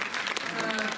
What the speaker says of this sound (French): Ouais, ça peut s'applaudir